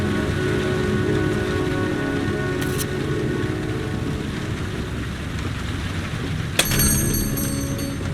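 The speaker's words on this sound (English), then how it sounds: "Can't breathe when it rains." Steady rain pours throughout a scene in the video game Heavy Rain, a dense continuous hiss on surfaces, with a brief sharp clatter near the end.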